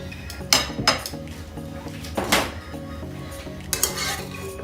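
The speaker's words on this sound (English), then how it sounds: "Now you can strain it nicely." Pots and utensils clanking while boiled spaghetti is strained in a kitchen, several sharp metallic clinks and clatters in irregular bursts over a faint background hum, close and fairly loud.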